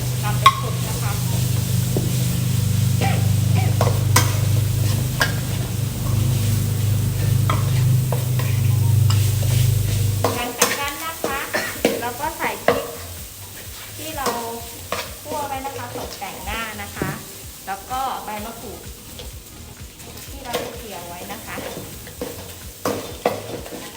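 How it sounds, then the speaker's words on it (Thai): Crispy mackerel chili paste with fried shallots is stir-fried in a pan until dry. A steady close sizzle runs for about ten seconds, then gives way to repeated scraping and stirring strokes with light clinks of the utensil. "ผัดจนแห้งนะคะจนเครื่องเข้ากัน"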